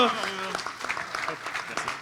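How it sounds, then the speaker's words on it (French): Crowd applause and cheering for the winners of an AI racing event's second season, a dense wash of clapping with voices over it, confetti moment, fairly loud and steady. "Sous les applaudissements, les hurlements même de la foule en délire"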